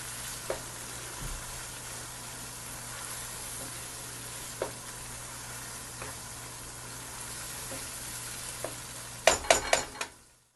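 Urad dal frying in a spiced masala gives a steady, even sizzle throughout, with a few faint spoon scrapes along the way and a quick burst of louder metal clatter from stirring in the pan near the end.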